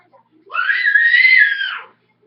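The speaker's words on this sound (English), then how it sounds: "See, there went the screams." Children at a party game of passing under a stick let out a loud burst of shrill screaming lasting over a second, close by, with no talk during it.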